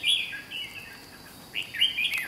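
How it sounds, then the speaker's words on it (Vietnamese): Red-whiskered bulbul song, loud and clear nearby: a bright chirping phrase at the start, a short pause, then another burst of sweet whistled notes near the end, with no talking. "Giọng chim ở khu này khá là to luôn anh em ạ, rất là chuông."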